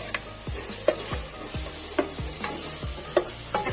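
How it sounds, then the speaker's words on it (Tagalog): Onion sautéing in a pan for chicken carbonara, a steady bright sizzle throughout with regular scraping stirs and soft knocks of the utensil against the pan about twice a second. "Igisa muna natin ang sibuyas natin hanggang sa medyo pumula-pula ng konti."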